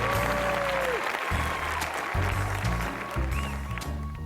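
Audience applause at a Playboy retirement tribute, steady clapping from a crowd that holds evenly throughout with a faint background tone.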